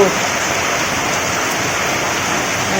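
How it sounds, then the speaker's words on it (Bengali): Heavy rain pours down outdoors during a power outage, a dense, steady roar of falling water close by that stays loud and even from start to finish. "বৃষ্টি হচ্ছে এত"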